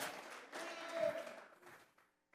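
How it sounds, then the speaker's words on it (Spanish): A church congregation at a Sunday afternoon service claps together as an offering of praise to God, a dense burst of applause that fades out after about two seconds. "Vamos a regalarle ofrenda de palmas al Dios de la gloria."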